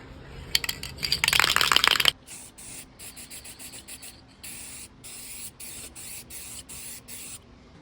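Spray can applying machine and implement green paint to a stand for a 98-year-old 400 lb anvil: a loud, sustained spray hiss for about two seconds, then a quieter run of short, evenly spaced bursts, with no talking.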